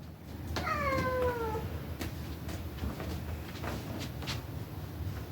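A pet cat yells with one long, drawn-out meow while straining to climb something out of reach, loud and close, followed by quieter room noise and faint scuffling.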